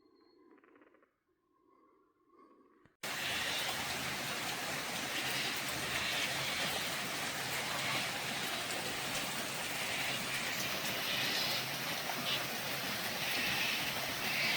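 Rain begins suddenly outdoors in the bush of Central West New South Wales, cutting in abruptly after faint background voices and then holding as a steady, dense hiss of falling drops.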